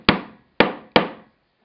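A steel fonging chisel hammered into leather to cut stitching slits while making a stitch-down derby shoe gives three sharp, close wooden-sounding whacks with an uneven rhythm. The strikes are loud and crisp, each with a short decay, and no one speaks.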